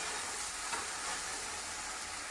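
Okra bhaji with salt fries in a pan as it is stirred, a steady close sizzle with a soft scrape of the spoon and no talking.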